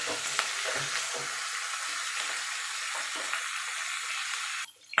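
Fish heads fry in hot oil with turmeric powder, giving a continuous bright sizzle punctuated by a few stirring clicks, with no voices before it cuts off abruptly.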